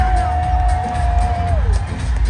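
A crowd cheers and whoops loudly and continuously at Mo Arena during the Miss World Philippines 2024 crowning, with a thin sustained tone gliding down through the roar and voices mixed in.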